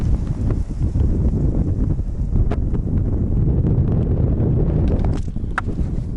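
Strong, steady wind over late spring ice while ice fishing in Yakutia buffets the microphone with a constant low roar and occasional gusty crackles, with no voices.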